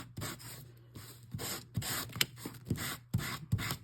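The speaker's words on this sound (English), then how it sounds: "you might want to try pushing harder or trying a different grit of sandpaper" Gritty sandpaper rubs over cardstock in repeated short, raspy strokes with brief pauses between them, close and fairly quiet, with no talking.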